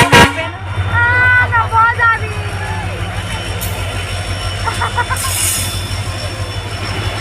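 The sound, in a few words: passing train honking horn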